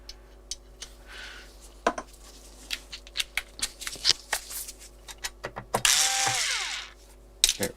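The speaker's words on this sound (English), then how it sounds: "It makes it so much easier to get the screws out." A magnetized screwdriver bit removes small screws from a MOTU 24 i/o audio interface, giving irregular close clicks and ratcheting ticks, then a brief louder burst of scraping and a rattling screw.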